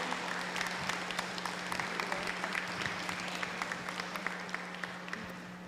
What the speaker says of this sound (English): Another big round of applause for our elders.